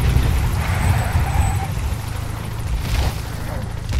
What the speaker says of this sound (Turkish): Helikopter gitmedi mi abi?